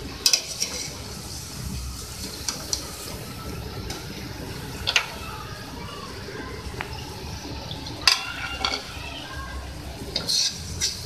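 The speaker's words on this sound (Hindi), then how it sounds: "बाकियों को भी इस तरीके से हम फ्राई कर लेंगे।" Shakarpara pieces deep-fry in hot oil under a soft, steady bubbling hiss, broken by sharp clinks of a metal slotted spoon knocking against the pan at irregular intervals.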